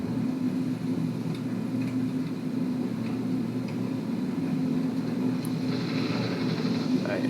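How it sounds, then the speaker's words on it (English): A propeller fighter plane in the video game Birds of Steel roars past during a low-altitude chase, a steady loud engine drone that shifts near the end as it passes, with a voice talking over it. "You can hear the plane zooming past."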